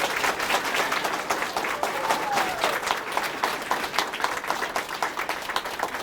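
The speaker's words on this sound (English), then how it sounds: "Can we give one final, huge round of applause for Ms. Hamill and Girls at Work for making this happen?" Students, principals and guests at a school picnic-table donation event give a big round of clapping for Ms. Hamill and Girls at Work, steady and crowded throughout, with voices mixed in.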